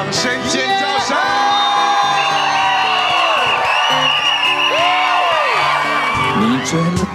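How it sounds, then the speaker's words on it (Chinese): Audience whoops and screams at a New Year's Eve television variety show, rising over a live sung pop ballad with band accompaniment; the crowd noise is loud and continuous beneath the singing. "掌声尖叫声"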